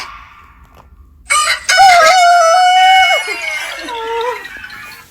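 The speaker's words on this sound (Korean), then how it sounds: "닭 울음소리가" A rooster alarm sound crows loudly, one long strained cock-a-doodle-doo that starts abruptly after a quiet lead-in and tails off into a lower, fading call.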